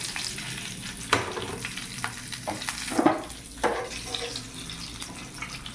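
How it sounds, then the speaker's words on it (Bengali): Nigella seeds and slit green chillies crackle in hot oil left from frying fish. A lively close-up sizzle is broken by several sharp stirring scrapes. "এটি ওই তেলে কালো জিরে, কাঁচা লঙ্কা চেরা দিয়ে দেবো।"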